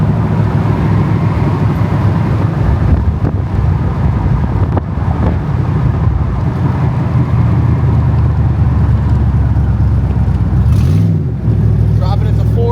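A 1965 Shelby drives on the road with a loud, steady engine roar and a wind rush. Gear changes are hard to pick out in the continuous drone.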